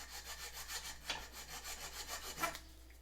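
Rasp rubbing roughly over a wooden archery grip on a recurve riser, making a steady rhythmic scraping of repeated back-and-forth strokes, close and moderately loud, with no voice.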